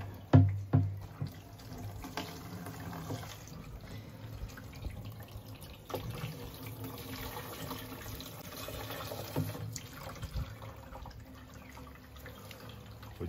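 Water streams steadily into a 60-litre camping water tank from a jerry can during a four-wheel-drive camping setup in Australia, a continuous close rushing flow with a couple of louder splashes near the start.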